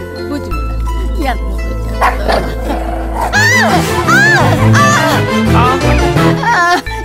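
A dog barks and growls loudly and repeatedly, close up, over a low, sustained background drone.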